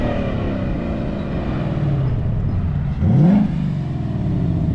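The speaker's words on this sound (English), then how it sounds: "Good little downshift. Oh, she's gonna floor it." A car downshifts and accelerates hard: steady engine drone, then a sharp rising rev burst near the end, fairly close and loud, with no talk.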